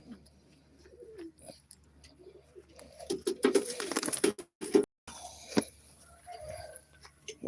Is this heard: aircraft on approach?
no